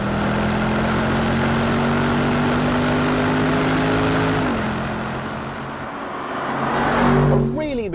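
A Bentley Bentayga S luxury SUV with a big V8 engine drones steadily and loud, a deep engine tone holding then shifting down before rising again near the end.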